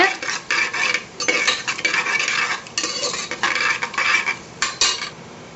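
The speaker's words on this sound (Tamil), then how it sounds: "தாளிக்கிறதுக்கு கடுகு, உளுத்தம்பருப்பு, ஜீரகம் போட்டு நல்லா கடுகு பொரியிற அளவுக்கு வதக்கி விடுங்க" Steady crackling and spattering of mustard seeds, cumin and urad dal popping in hot oil, with occasional scraping of a utensil against the pan, close and continuous.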